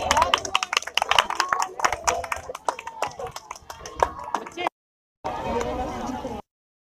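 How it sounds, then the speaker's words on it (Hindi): An outdoor audience at a college annual sports festival claps during a sack race, a rapid, uneven patter of many hands mixed with voices and crowd chatter, dropping out briefly near the end. "तालियां नहीं रुकनी चाहिए।"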